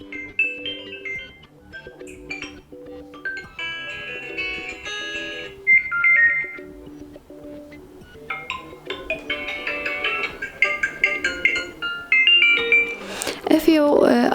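A melodic Xiaomi Redmi Note 8T phone ringtone plays, its bright electronic tones in shifting phrases, with a brief voice near the end.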